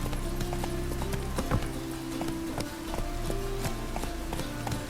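Roach, the horse in The Witcher 3: Wild Hunt, gallops with a steady, fast clip-clop of hooves, loud and close, set against a continuous low musical drone.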